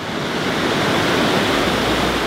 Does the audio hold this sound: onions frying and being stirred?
no